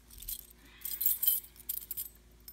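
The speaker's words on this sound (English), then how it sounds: "Oops, I dropped the keys as usual." A bunch of keys drops and jangles with bright metallic clinks in several brief clusters, faint and close, while someone tests a fire alarm panel.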